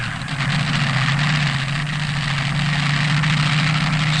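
Top fuel dragster engines run at the 1972 NHRA World Finals drag race semifinal, a loud, steady low roar with a strong droning hum that holds evenly throughout, with no talking.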